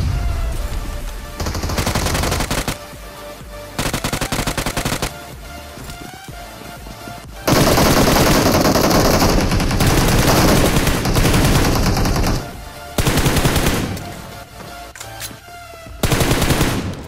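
Machine gun fire in the Free Fire video game, in the IMAGIVERSARY mode, comes in loud, close bursts of rapid automatic shots, some short and some sustained, with brief pauses between them.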